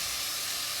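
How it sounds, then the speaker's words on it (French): A pan deglazed with cider after a roast is lifted out gives a steady, even steam hiss with a sizzling edge, close and continuous, with no voices over it. "on va déglacer un petit peu avec le cidre"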